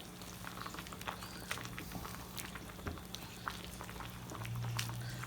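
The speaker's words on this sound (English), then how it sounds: "now that my mixture is boiling" A pan of pasta mixture boiling on high heat, bubbling and popping steadily, with small irregular pops and a low simmering rumble throughout.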